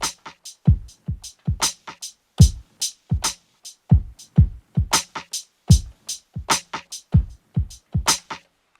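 Slow drum beat played on an MPC, with sharp kicks and snappy hits spaced out by quieter bouncing ghost notes in between, a steady loose groove heard alone and up close.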